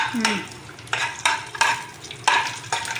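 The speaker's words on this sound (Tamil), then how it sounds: "அப்படியே வதக்கணும்" Ingredients for cumin curry sauté in a pan, a steady close sizzle punctuated by five or six distinct scraping stirs of a utensil against the metal.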